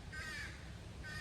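Crows caw at Ferry Beach State Park in the pine trees of Maine, two faint, hoarse calls separated by a short pause against quiet outdoor ambience.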